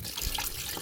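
Water trickles and splashes steadily from an opened central-heating pipe during a valve swap, close and continuous, with no talk.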